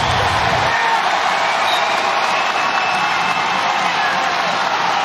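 A college wrestling crowd at a Pittsburg versus North Carolina State match roars in a steady, loud wash of cheering that holds throughout the arena.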